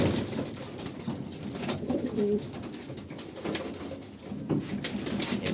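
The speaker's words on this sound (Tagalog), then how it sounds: "So may mga kalapati pa dito sa taas." Pigeons coo softly and steadily while being fed, a low, murmuring flock sound with occasional light flutters close by.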